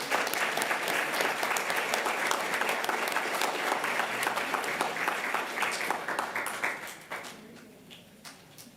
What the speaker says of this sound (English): Big round of applause for Daniela.